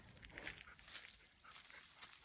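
Dogs roam in an off-leash dog park outdoors, heard faintly and at a distance as brief yips and scuffling among soft background noise.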